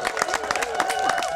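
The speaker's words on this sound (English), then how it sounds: "What's this clapping business?" Audience clapping at a Native American living-history blowgun demonstration at Fort King George, a scattered crowd applauding steadily with some voices mixed in.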